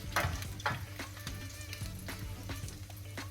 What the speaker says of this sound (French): là je vais vider la graisse ici